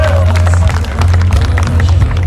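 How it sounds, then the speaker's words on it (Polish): A crowd claps and cheers steadily at an outdoor motorcycle rally in Łeba, greeting a costume contest entrant with dense, sustained applause beneath a low engine-like rumble. "Zapraszam, brawa wielkie."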